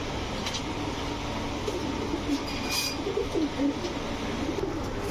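A female Putul Gorra pigeon coos in low, soft repeated murmurs over a steady background hum, with no talking.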